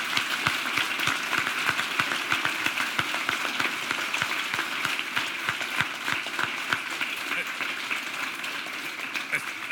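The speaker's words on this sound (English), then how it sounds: "a big round of applause" Audience applause follows a space presentation by retired NASA astronaut and US Navy captain Heidemarie Stefanyshyn-Piper in Tallinn, dense steady clapping throughout with voices faintly mixed in.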